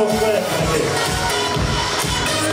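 Guests at a Kazakh wedding celebration clap together in a dense, continuous burst of applause that fills the room and carries crowd murmur.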